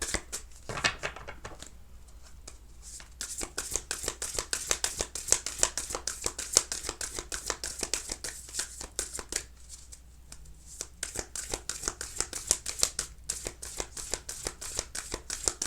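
A deck of cards is shuffled over and over in steady, crisp riffles and flutters, close and fairly quiet, with brief pauses between runs and no talk.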